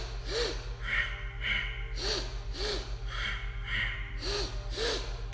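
Sharp, rhythmic paired inhales and exhales through the nose in a breathing exercise, repeating in quick double strokes over a steady low hum, close and clear without speech.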